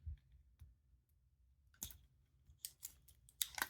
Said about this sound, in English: got the plastic off the case back